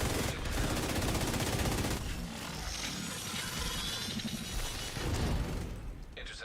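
Player's gun firing in The Division 2, loud rapid automatic bursts forming a dense, continuous rattle with brief pauses, close and dominant.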